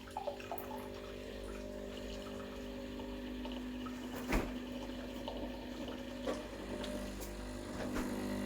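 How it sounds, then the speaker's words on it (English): A Breville Barista Pro BES878 espresso machine runs a blank double shot of hot water, giving a steady, quiet hum and trickle of water pouring into a cup, with small clunks near the middle and end. "So let's do a double shot of hot water."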